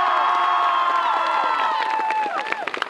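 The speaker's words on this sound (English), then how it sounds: "we're going to do a section cheer" A high school football student section, Belding v Spring Lake, shouts a cheer together in a loud, sustained crowd roar of many voices that breaks into scattered yells and claps near the end.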